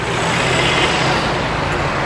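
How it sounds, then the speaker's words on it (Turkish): Street traffic flowing along a city avenue in Konya, heard as a loud, continuous roadway roar with a low engine rumble close by, steady for the whole stretch and with no clear voices. "şu anda sol tarafından trafik akıyor"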